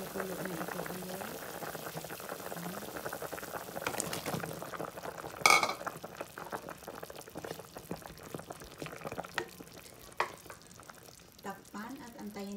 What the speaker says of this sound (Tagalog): nakumukulo na ito ulit